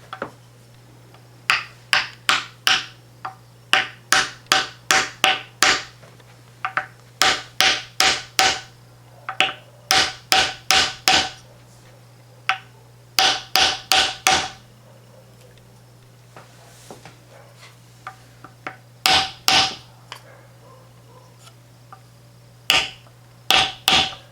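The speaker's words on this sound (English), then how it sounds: "fret hammer, block of wood." Sharp, repeated fret hammer strikes on a wooden block come in quick bursts of several hits with short pauses between them, close and alone over a low steady hum.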